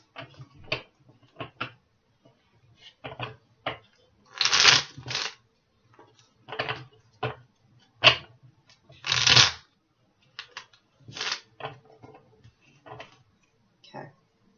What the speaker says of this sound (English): So let me just clarify, pull a couple cards